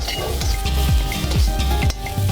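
Green peppers and spring onions stir-frying in a hot pan with a little oil, a loud, close, steady sizzle broken by repeated scraping and tossing strokes.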